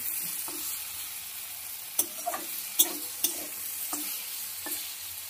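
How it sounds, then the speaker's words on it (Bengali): Okra (bhindi) fries over medium heat in a pan with a low, steady sizzle, punctuated by a few sharp clinks and taps as a spatula stirs and scrapes, all close and without talk. "একটু ধৈর্য ধরে ভেন্ডিটাকে ভাজতে হবে"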